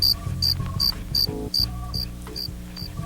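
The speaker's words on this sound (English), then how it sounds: "Look at the crickets. There they go." Crickets chirping in a regular pulsing rhythm, sharp high trills repeating about every third of a second, loud and close over a low droning hum of background sound.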